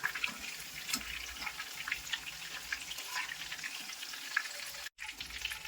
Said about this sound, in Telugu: తీసుకొని ఈ ఉన్నవి కూడా ఒక్కొక్కటిగా వేసుకొని ఫ్రై చేసుకోవాలి.